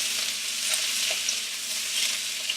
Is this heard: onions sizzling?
yes